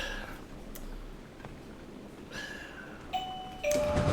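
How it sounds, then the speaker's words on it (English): A doorbell sounds indoors in a quiet room, a couple of clear tonal chimes standing out near the end, with faint background noise and no talking. "Oh, that's my doorbell."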